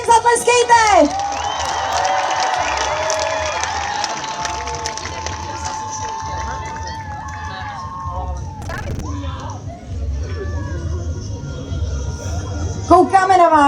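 A crowd cheers and applauds as children are called to the front at a Czech live event. Loud clapping and whoops start strongly, then settle into steady applause, with a presenter speaking over it.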